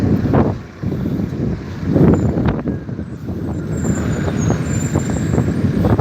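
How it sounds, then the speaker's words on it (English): Strong wind buffets the microphone in loud, uneven rumbling gusts, with distant traffic noise underneath and no voices. "Look, because it's so bad and windy here,"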